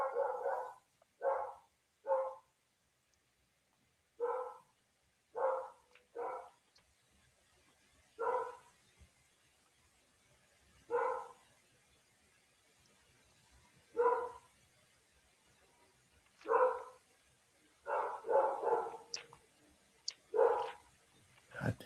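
A dog barking repeatedly in the background, short barks in pairs and clusters spread over about twenty seconds, moderately distant, with quiet gaps between.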